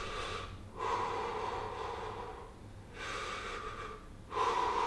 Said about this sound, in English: breathe through the mouth six times